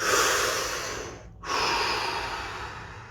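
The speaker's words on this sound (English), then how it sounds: "Release, deep breath." Two long, deep breaths close to the mic, the first a slow whooshing exhale that fades, then after a brief pause another full breath rushes in and trails off.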